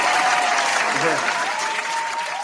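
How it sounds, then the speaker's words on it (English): A short burst of audience applause, thick and steady clapping that carries throughout, with a voice speaking briefly over it. "Round of applause for that."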